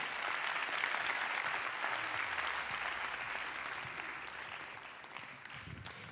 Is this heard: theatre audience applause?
yes